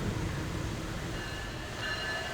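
An Amtrak Surfliner passenger train rolls past close by, giving a steady loud rumble of wheels on rail with faint squeal at the end and no voices.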